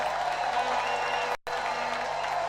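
A church congregation applauds and cheers in a sustained, roomy wash of clapping and crowd noise, cut by a brief dropout midway.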